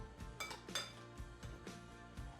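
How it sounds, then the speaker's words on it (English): Shrimps being tossed in a bowl of gochujang marinade produce a quiet series of rhythmic clinks and taps from a utensil against the bowl, about eight light strikes in quick succession. "Now we're gonna take our shrimps and we're gonna toss it in."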